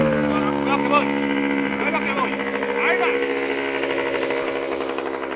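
Aeronca light aircraft with a carbureted engine running on the ground, a steady buzzing drone rich in harmonics that continues throughout while people talk over it.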